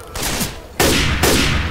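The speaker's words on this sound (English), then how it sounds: "Stop shooting me, coach." A teammate firing a gun in the zombie shooter Left 4 Dead 2, two loud, close bursts of rapid gunshots with a short gap between them.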